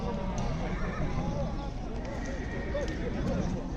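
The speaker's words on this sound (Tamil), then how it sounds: "எவ்வளோ குதிரை இருக்குது பாருங்கள்." Horses at a large Kyrgyz horse market neigh and whinny repeatedly, with hooves clopping and a crowd murmuring steadily in the background.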